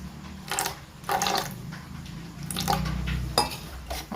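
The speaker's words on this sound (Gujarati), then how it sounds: "આપણે થોડું પાણી એડ કરીશું" Water is poured into vada pav batter in short splashy bursts, mixed with clinking and scraping of a bowl and utensil, close up and moderate in level.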